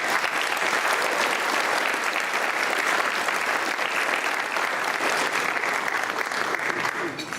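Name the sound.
audience applause at a dinner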